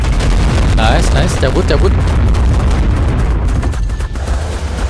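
Sustained, loud gunfire and heavy booming from a boss battle in the video game Ark Primal, a dense roar of shots and blasts filling the whole stretch while a person talks over it.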